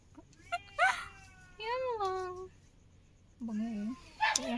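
A cat meows several times, drawn-out and wavering, close by, with short pauses between the calls.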